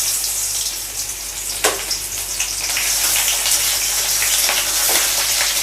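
Onions frying in oil in a pan, a steady close sizzle and crackle that keeps going throughout, with one sharper hiss burst as they go in.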